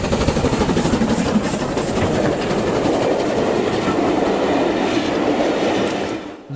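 British Railways mainline steam train 1T57 on the final steam farewell run, heard as a loud, close, continuous rush of rolling wheels with rhythmic clickety-clack over the rails, no voices.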